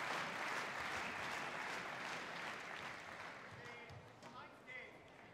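A badminton crowd applauding at the 2013 German Open men's singles quarterfinal, a dense sustained clapping that slowly thins and fades, with commentators talking over it.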